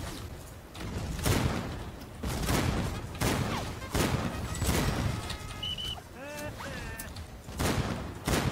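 Gunfire in the video game Battlefield Heroes crackles in repeated sharp bursts, with short pauses between volleys, alongside some brief tonal game effects.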